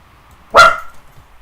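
A single sharp, loud bark from a dog outside, echoing briefly in a confined area, with a short ringing tail and quiet surroundings.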